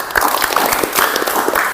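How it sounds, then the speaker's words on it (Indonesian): A classroom group of students claps hands together in a short, fairly close burst of uneven applause that stops abruptly. "Tepuk tangan dulu."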